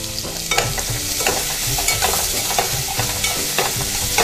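Finely chopped onion sizzling in a hot oil tempering, a steady close crackle with a few soft scrapes of stirring and no voices.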